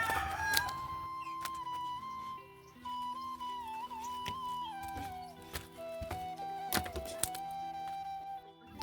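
Backyard chickens squabbling over feed, with a rooster crowing loudly and hens clucking close by; overlapping calls and sharp bursts continue throughout, with no one speaking.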